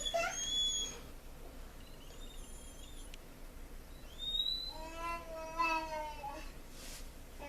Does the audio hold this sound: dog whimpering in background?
yes